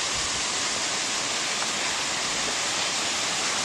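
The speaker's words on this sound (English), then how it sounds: "Put my head in the waterfall." A waterfall on Timpanogos pours in a close, loud, steady hiss and roar of falling water, constant throughout with no talking over it.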